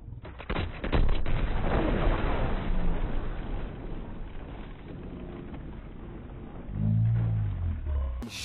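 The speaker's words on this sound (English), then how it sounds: "I did not know he had a fucking grenade launcher" A grenade launcher fires in a shooter video game: a couple of loud booming blasts near the start roll off into a rumbling decay, followed by a lower droning rumble and a further thud, with no talk.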